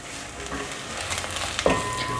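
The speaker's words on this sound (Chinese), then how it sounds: "锅内放入适量的油，把香菇炒香" Shiitake, red beech and white beech mushrooms fry in oil in a pot for a vegan soup, giving a steady close sizzle with a brief stirring scrape partway through.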